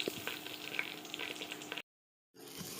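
Washed rice fries in a pot with a quiet, crackling sizzle and soft stirring, broken by a brief moment of complete silence before the frying resumes.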